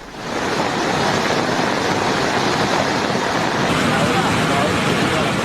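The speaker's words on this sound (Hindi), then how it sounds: "ये झरना देखिए बह रहा, देखने में तो सुंदर लेकिन बहुत खतरनाक।" Waterfall pouring beside a mountain highway hit by landslides during heavy rain, a loud dense roar of rushing water that holds steady and close throughout with no breaks.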